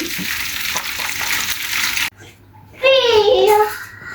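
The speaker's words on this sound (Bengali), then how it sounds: "এই যে ভেন্ডি ভাজি করছি" Okra (bhindi) sizzles loudly in a pan for about two seconds with stirring scrapes, then the frying cuts off and a voice speaks over a quiet background.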